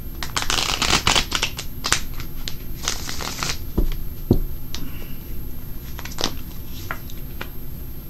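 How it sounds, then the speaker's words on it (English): Tarot cards being dealt and laid out on a table, with repeated crisp slaps and shuffling rustles at close range, arriving in irregular bursts without any talk. "So let's go ahead and lay 9 cards."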